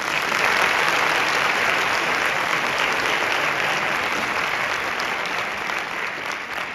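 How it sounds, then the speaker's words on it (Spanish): A concert audience applauds a band, a loud, close, unbroken wash of clapping from many people that stays steady and fades slightly toward the end. "Un aplauso para ellos, ¿verdad?"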